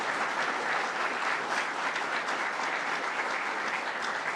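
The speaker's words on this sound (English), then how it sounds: "Let's give her one more round of applause." At a New York State firefighter training announcement, a large audience applauds in a steady, full wash of clapping that stays loud and even throughout.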